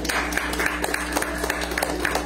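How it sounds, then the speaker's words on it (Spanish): An audience claps for a performer at the closing ceremony of a marimba course in Jacaltenango: dense, steady clapping over a low electrical hum. "le brindemos fuerte aplauso a él"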